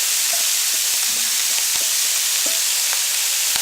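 Carrots and cabbage stir-frying in a hot pan for a Thai spring roll filling give a steady, close sizzle, with a few soft clicks from stirring and no voices.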